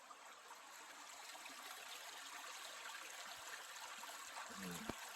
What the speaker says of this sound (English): And there's Murphy Brook there.